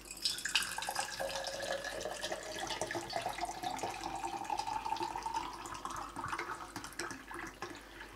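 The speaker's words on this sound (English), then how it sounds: "I'm going to slosh in a bit of water." Water sloshes into a container while Rodinal developer is being mixed, a steady pouring and splashing that lasts for several seconds with no talking.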